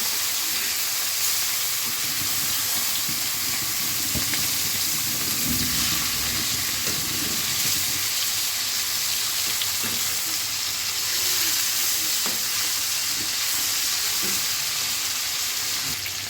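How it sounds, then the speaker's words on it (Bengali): Hilsa fish frying in hot oil in a pan, giving a steady, dense sizzle that fills the whole stretch with little change, close by and continuous, with occasional faint clinks and no clear talk. "মাছগুলো ভাজা হয়ে গেছে,"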